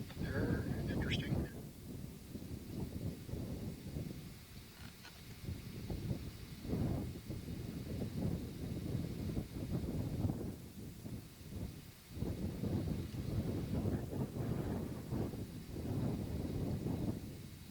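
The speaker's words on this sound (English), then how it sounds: "Wind is beginning to pick up." Outdoor wind gusts rumble and buffet in irregular surges throughout, with low microphone-style blustering that rises and falls, loud and close, without any clear foreground sound.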